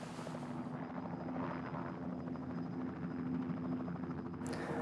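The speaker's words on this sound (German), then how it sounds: "Plötzlich wird es laut. Ein Helikopter." A helicopter thrums close by over a protected golden eagle nesting zone, a steady, loud rotor chop with a continuous engine whine that holds throughout.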